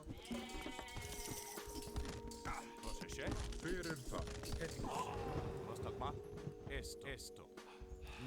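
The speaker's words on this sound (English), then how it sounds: "Start eating those goats." Goats bleating in the Age of Mythology video game, several wavering bleats over busy battle sounds and clanking effects, with a voice talking over them at moments.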